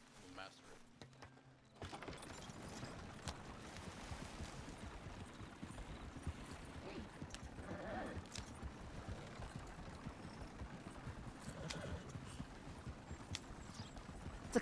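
Horse hooves clip-clop in a steady trotting rhythm in the RedM video game, starting after a brief quiet opening and continuing close and even, with talk at times over the hoofbeats.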